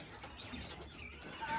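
Soft cooing of pigeons, brief and faint, with a light chirp from other birds nearby and no one talking.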